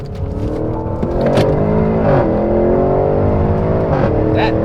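A supercar engine revs hard through a turn, a loud, close, sustained roar with rising and falling pitch sweeps as the throttle changes, heard alone without talk.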